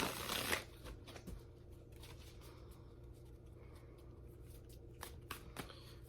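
Tarot cards being shuffled by hand, a loud riffling burst at the start, then soft, faint card rustles and taps at a steady pace in a quiet room.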